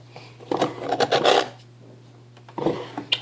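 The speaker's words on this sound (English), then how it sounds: "Now to file." A metal hand file rasps along the edges of a cornered jewelry bezel in short bursts of strokes, loud and close, with a pause before a few more strokes resume.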